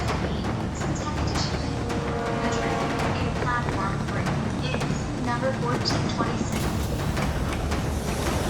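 A train pulls away from a station with a steady, dense rumble of wheels and carriage noise throughout, while voices talk faintly in the background.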